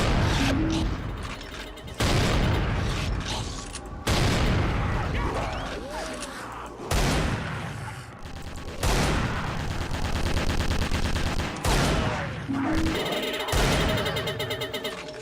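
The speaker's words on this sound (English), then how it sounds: "I like the noise for when the sentry gun overheats." Sentry gun in a Behead the Undead game mod, firing in loud repeated bursts of rapid shots separated by brief pauses, with mechanical whirring and overheating sounds between volleys.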